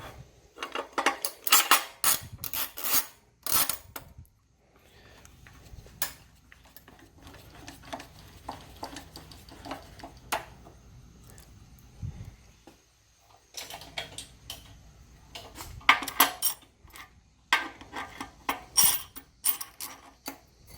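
Metal clamps lock workpieces and a speed square down on a metalworking bench, giving bursts of sharp metallic clicks and clanks separated by quiet stretches, with no talking.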